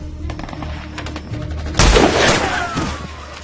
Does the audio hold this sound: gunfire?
yes